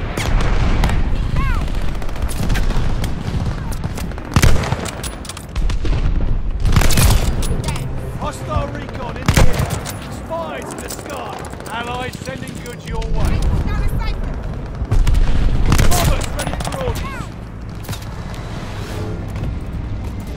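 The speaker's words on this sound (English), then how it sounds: "Bomber assist coming in" Bomber assist bombing run in Call of Duty Vanguard team deathmatch, with heavy booming explosions and scattered gunshots arriving in waves over a long stretch, and voices talking in between.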